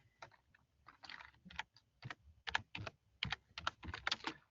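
Quick, uneven keystrokes on a computer keyboard, with clustered bursts of clicks and short pauses, close and fairly quiet while a message is typed.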